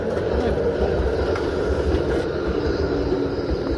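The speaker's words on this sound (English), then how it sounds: "That's the tram." A tram passes close by with a steady, loud rumble that holds throughout, with a faint voice in the background.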